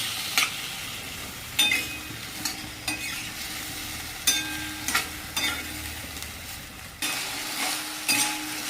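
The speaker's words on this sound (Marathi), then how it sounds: "तर बघा आता मस्त आपण हे फ्राय करून घेतलेलं आहे चांगलं छान." Potatoes stirred and fried in a pan over low gas for a potato bhaji, a steady sizzle broken by repeated scraping stirs and light utensil clinks, close and without talk.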